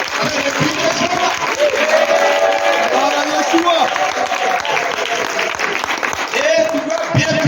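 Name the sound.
congregation applauding and cheering for Jesus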